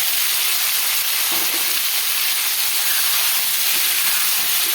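Marinated eggplant hits a hot pan of oil with lightly fried curry leaves, giving a steady, loud broadband hiss and sizzle that holds evenly throughout, with no voices.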